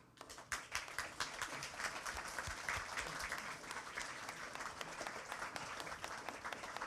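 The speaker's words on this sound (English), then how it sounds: "If you put someone clapping, they'll clap." An audience at a talk applauds in a steady, dense wash of many hands clapping. It stays at an even level from start to finish, heard from within the room, with no voices on top.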